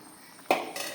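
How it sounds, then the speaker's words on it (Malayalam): A pot of curry with fried mustard seeds is poured into another vessel, giving a sudden metal clink of pots at the midpoint and then a quieter scrape and clatter, close and alone. "വേറൊരു പാത്രത്തിലേക്ക് അതൊന്ന് പകർന്നു"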